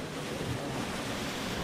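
Ocean surf on a beach, a continuous loud rushing wash of water with wind buffeting the microphone, close and unbroken.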